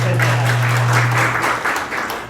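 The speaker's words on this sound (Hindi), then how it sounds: "आपके लिए तालियां बजाओ पहले।" An audience clapping for a participant at a talk, a short, dense burst of many hands close by with a steady low hum underneath.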